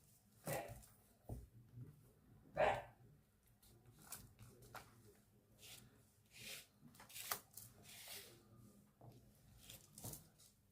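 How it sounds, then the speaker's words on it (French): Dogs bark indoors or nearby, faint and intermittent, with a few sharper yelps standing out over quiet household background noise. "Les chiens ont aboyé."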